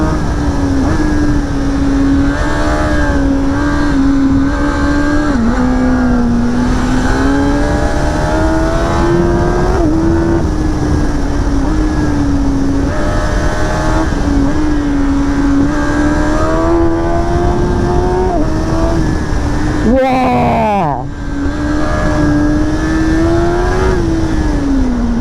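A 2025 Kawasaki ZX-10R sportbike revs hard in first gear, its engine note climbing steadily in a loud, continuous rising whine with a quick gear-change dip near the end, no voices.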